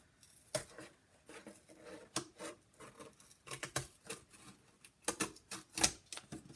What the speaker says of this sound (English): My dollar store scissors are not doing me any favors here.